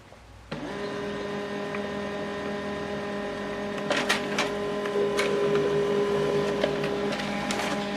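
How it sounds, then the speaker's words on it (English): An HP LaserJet MFP M140WE laser printer starts up and prints a page: a sudden motor whir settling into a steady mechanical hum, then several sharp clicks and clacks of paper feeding, close and alone. "This is the document you printed out."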